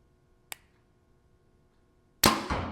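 A sharp, faint snap as an APA Black Mamba Pro 6 compound bow with X2 cams is released, then about two seconds later a loud thud as the arrow strikes a wall.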